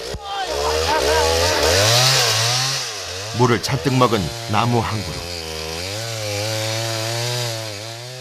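A chainsaw drones steadily in a Laos jungle, its pitch dipping and rising as it bites into a tree trunk, with a voice speaking over it.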